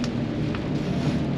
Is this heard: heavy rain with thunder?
yes